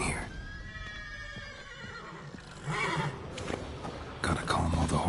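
Horses in a video game stable whinny in a long, shrill, wavering call, joined by further agitated neighs and some clip-clop of hooves, with a voice talking over them.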